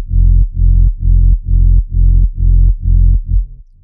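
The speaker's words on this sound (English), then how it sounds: "my sub bass is from Spire. It's time capsule sub bass" Spire Time Capsule sub bass synth in an FL Studio future rave production, seven evenly pulsing loud low notes in a steady rhythm, ending with a short tail, alone without speech.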